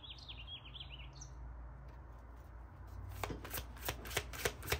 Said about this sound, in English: The birds have been really talking.